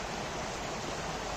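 A river flows steadily through a quiet, remote spot, a continuous broadband rush of moving water with no breaks, fairly soft and unaccompanied by any voices.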